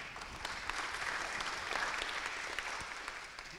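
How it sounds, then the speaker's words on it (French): Audience clapping in a university medical faculty lecture hall, a dense, even round of applause that holds steady for several seconds at moderate distance. "On peut l'applaudir."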